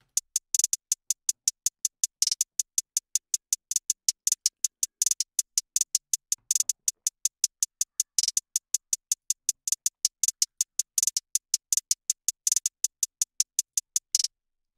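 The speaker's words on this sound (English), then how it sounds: "Next, I got a simple hi-hat pattern." Tip hi-hat from producer Cody plays a simple, steady pattern of crisp, bright ticks in an even fast rhythm, with a few accented hits, loud and alone throughout.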